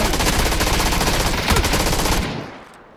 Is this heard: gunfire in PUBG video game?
yes